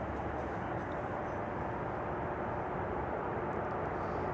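A Qatar airliner crossing a runway at Amsterdam Schiphol Airport, its engines a steady loud rumbling drone heard from a distance without letup.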